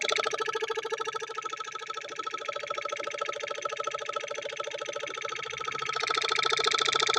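A replaced refrigerator compressor runs steadily up close, a continuous rhythmic mechanical hum with a fast pulsing beat that grows slightly louder near the end, with no talking.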